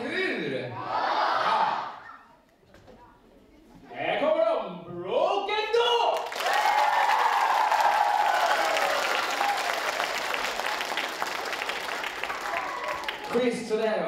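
A theater audience roars with sustained cheering, shouting and applause, a dense loud wall of crowd noise lasting several seconds after short bursts of a single voice speaking and calling out.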